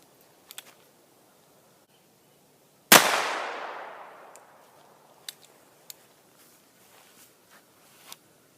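A single sharp .22 Magnum gunshot fired into a backpack cracks loudly and close, its ring decaying over about a second, with quiet clicks and handling noises before and after.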